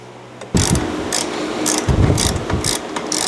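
A ratchet tightening a bolt on a scooter exhaust, starting after a brief quiet moment with repeated close clicking strokes in uneven bursts.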